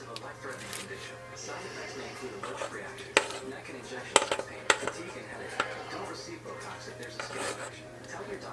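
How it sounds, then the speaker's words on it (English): Spatula scraping a cheesecake cream cheese mixture down the sides of a bowl, soft scrapes punctuated by a few sharp clinks against the bowl over a low background hum. "Let me see if I can get some of this stuff scraped down."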